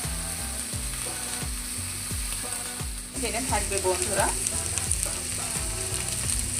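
Taro stolons with green chilli sizzle in hot oil while being stirred, the frying hiss steady beneath regular rhythmic scraping strokes of a spatula, with a short stretch of talk.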